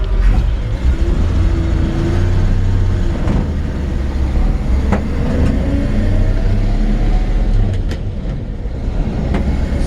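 A 1951 Chevrolet 3100 truck with its rebuilt original 216 engine drives along, a loud steady engine drone and road rumble with a few brief shifts in pitch.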